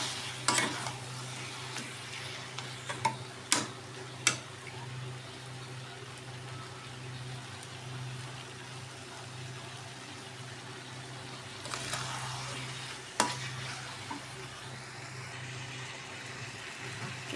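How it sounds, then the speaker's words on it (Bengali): Fatty mutton sautéing slowly in its own rendered fat, a low steady sizzle with occasional sharp clanks and bursts of stirring against the pot, fairly faint throughout. "কষতে কষতে তেল বেরিয়ে আসবে। তো ভালোভাবে কষবো এবার।"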